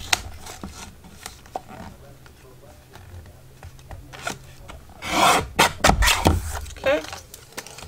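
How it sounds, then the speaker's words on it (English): Paper for a junk journal folio is cut and trimmed, giving scattered scraping, rasping rubs and short snips that grow louder and denser toward the end, with light handling noises between them. "I'm just going to cut away 1 full inch off of the bottom here"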